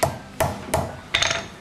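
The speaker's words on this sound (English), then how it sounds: "And start hammering it until I get the curves correct." Hammer strikes on a steel blade being straightened to correct its curve: four sharp metallic blows, three evenly spaced and a fourth slightly later with a ringing tail, close and loud with no talk.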